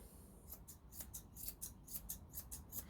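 Scissors snipping a poodle's top knot, with a quick series of about a dozen faint, crisp cuts in an uneven rhythm over a quiet background.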